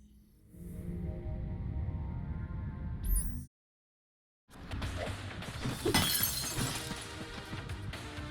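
Crashing and shattering from the house-moving video game Moving Out, with bursts of breaking glass and clattering objects over busy game sounds, a brief silent gap, then another loud run of smashing debris.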